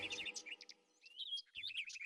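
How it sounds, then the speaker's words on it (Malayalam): Trained parrots released in a royal palace hall give a few bright, high chirps and whistles in quick bursts, with a short quiet gap in the middle, fairly near and moderately loud. "മകൾ ശീലിപ്പിച്ച തത്തകളെ ബീർബൽ പറത്തിവിട്ടു"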